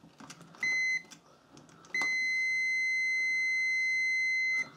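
A multimeter set to continuity emits two clear, steady electronic beeps while testing an overload relay for motor or transformer protection: a short tone first, then a longer sustained beep lasting nearly three seconds, close and loud over a quiet room.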